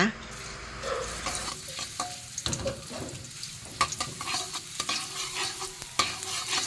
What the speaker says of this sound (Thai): แล้วให้เราผัดกระเทียมจนมีกลิ่นหอมก่อนค่ะ